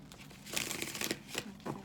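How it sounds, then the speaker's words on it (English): Tarot cards being shuffled in quick papery riffles and rustles, several bursts close by, with no talking. "Do a little bit more shuffling."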